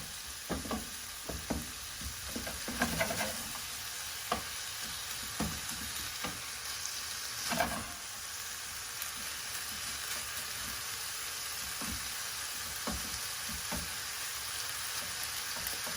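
San Choy Bow filling fries in a pan with a steady sizzle, while a utensil breaks up the lumps in scattered scrapes and taps, heard alone at moderate level.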